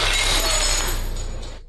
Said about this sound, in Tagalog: Basag mo pala ang alak.